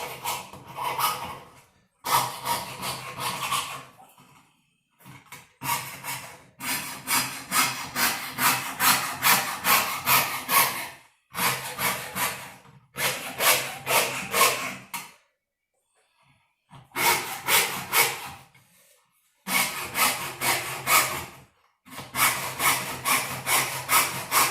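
A hand saw cuts through wood in a crafts class, with close rhythmic back-and-forth rasping strokes in several bursts broken by short pauses.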